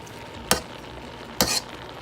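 Food in a wok over high heat, two short bursts of crackling sizzle rising sharply and dying away, close and fairly loud against a quiet background.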